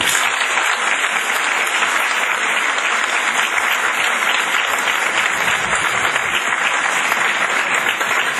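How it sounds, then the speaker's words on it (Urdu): A large audience at a motivational talk breaks into loud, dense applause after a presentation, an even roar of clapping that holds steady for the whole stretch with no talking. "آپ کی تالیاں بتائیں گی کہ آپ کو ان کی پریزنٹیشن اور ان کا اسٹائل کیسا لگا"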